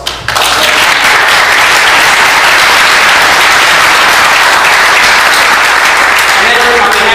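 Loud, dense applause from a conference audience at a scientific meeting, a sustained wash of clapping filling the room from start to finish without letting up.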